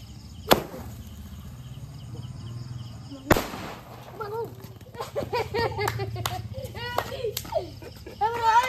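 Rocket fireworks set off during a Laxmi Puja celebration: two sharp cracking bangs a few seconds apart, with children's chatter and voices continuing in the background afterward.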